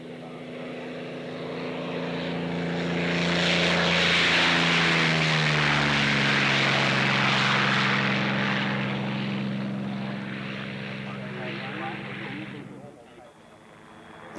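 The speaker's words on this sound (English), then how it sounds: "takes the 40-year-old but brand new Kittyhawk for its test flight" A Kittyhawk propeller fighter plane drones past at an airshow in Wanaka, New Zealand, its engine swelling to a loud steady roar then fading, with a pitch shift as it goes by.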